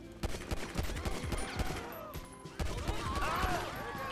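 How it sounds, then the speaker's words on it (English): Rapid bursts of gunfire from a GTA 5 street fight crack repeatedly across a chaotic game scene, dense and loud, with short sharp shots stacking into volleys while a voice talks over parts of it. "Why is everyone shooting me?"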